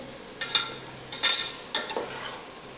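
Pulao ingredients for a mushroom curd pulao frying in a pan, with three or four sharp stirring scrapes in bursts over a low sizzle, close by and with no speech.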